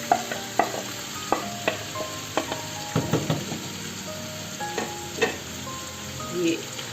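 Potato and eggplant pieces go into sizzling tomato masala, and the pan hisses steadily while utensils scrape and tap sharply and irregularly nearby.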